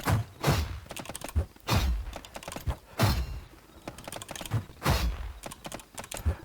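Keys on a mechanical keyboard clack in quick uneven bursts, close and crisp, with short pauses between runs of typing.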